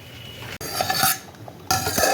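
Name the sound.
stirring rice gently in a pan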